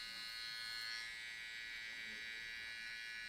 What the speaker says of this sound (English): Use your trimmer again, or clipper, doesn't matter. Clean this line.